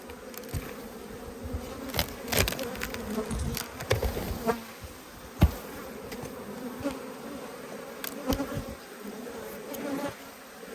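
Honey bees hum and buzz at an opened hive during an inspection, a continuous close drone with occasional sharp knocks and rustles from handling the frames.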